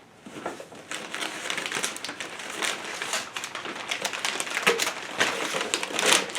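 Heavy-duty packing paper crinkles and crunches as it is pulled off an NPD parts order of new Dynacorn hinges for a 1968 Mustang. The rustling is close and continuous, with irregular louder crackles and no talking.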